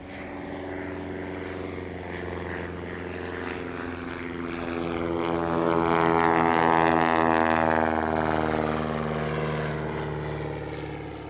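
A replica Bristol Tourer, a vintage propeller biplane built in the USA in 1992, flies past at an airshow, its engine droning steadily and swelling louder as it nears, then easing slightly, with no talk.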